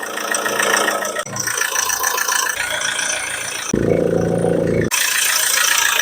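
A Chevrolet Orlando 2.0 diesel engine idles steadily with a rattling, knocking chug, loud and close, with brief shifts in tone and no talking.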